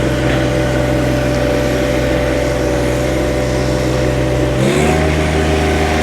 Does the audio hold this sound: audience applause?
no